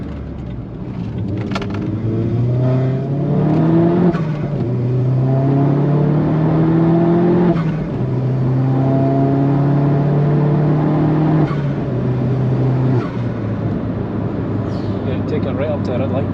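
A Vauxhall Astra VXR fitted with a Klasen GenX exhaust manifold pulls hard in second gear on the Nürburgring, its engine note rising in loud, rumbling sweeps toward the red line. The car is heard from inside, with people talking over it.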